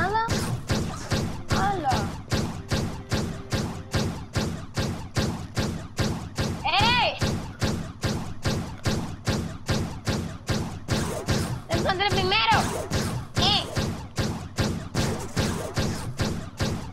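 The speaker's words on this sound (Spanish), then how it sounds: "¿Ven los disparos que van al cielo?" Video-game gunshots fired into the sky in Trove form a steady, rapid series of evenly spaced thuds through the whole stretch, with faint game voices or tones now and then.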